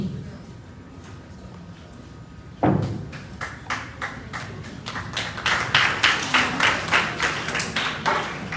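Audience at a Day of the African Child celebration in Liberia breaks into clapping after a quiet stretch, starting with a sharp burst and then settling into rhythmic, fairly close hand claps that grow steadier and louder.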